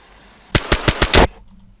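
Five sharp rifle shots from a VS89 in the survival game DayZ, fired in a quick burst over about three quarters of a second, loud and close, followed by quiet.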